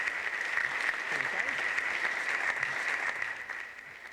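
Applause from a studio audience in the Not For Broadcast telethon game, a steady wash of clapping throughout that eases off near the end.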